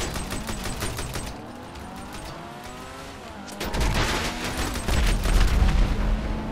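Vehicle-mounted rockets and guns fire during a GTA 5 Online vehicle vendetta match, rapid repeated shots over a running engine, with heavier booming blasts swelling louder toward the end.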